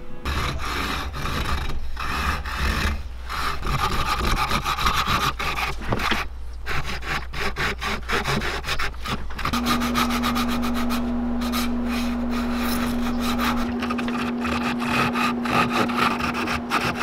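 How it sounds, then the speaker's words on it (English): Steady back-and-forth sanding of a large wooden grayling swimbait, a continuous close rasping scrape with rhythmic strokes, and a faint steady hum beneath. "I sanded and sanded and sanded."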